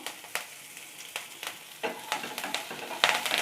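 Mustard seeds popping in hot oil with green chillies and curry leaves added, a crackling sizzle punctuated by sharp spitting pops that grow busier toward the end, close and moderately loud with no talk.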